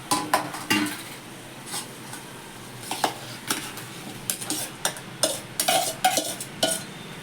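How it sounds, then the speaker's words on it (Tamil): Mushrooms are stir-fried in oil in a pan for mushroom biryani, with repeated close clatters and scrapes of a spatula against the pan over a faint sizzle. "கூடவே நம்ம ரெடி பண்ணி வச்சுருக்க காளானையும் போட்டு எண்ணெயில் நல்லா வதக்கி மிக்ஸ் பண்ணி விட்டுருணும்"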